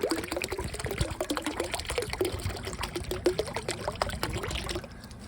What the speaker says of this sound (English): Water will soon fill up right here.